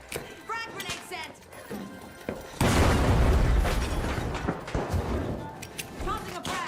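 A frag grenade from the shooter The Finals goes off partway through with a sudden heavy boom, followed by a long rumbling tail. A voice talks before and around it, and small game clicks and pops come and go.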